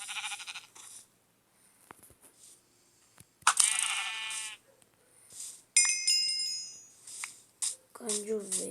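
Sheep bleats in a Minecraft-style video game, heard as a few short bright calls with clicks and other game sounds around them, mostly without speech.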